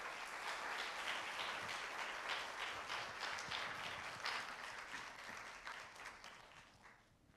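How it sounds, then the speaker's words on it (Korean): A church congregation at a Wednesday service applauds to welcome a missionary with steady, full applause that holds for several seconds and then gradually fades. "우리 환영합니다라는 마음으로 박수로 우리 선교사님 모시겠습니다"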